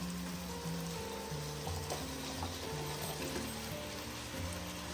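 Potatoes tumble into a hot pan with cauliflower for a Kerala-style stir-fry, giving a steady, close sizzle with soft stirring scrapes throughout and some tonal music underneath.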